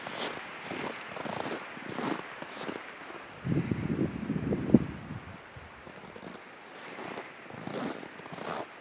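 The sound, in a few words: wind outdoors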